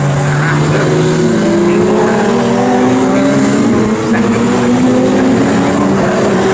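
A Radical SR1 race car at Snetterton passes the start-finish line during a cup race, a loud sustained engine drone with pitch sliding as it goes by, fairly close and continuous throughout.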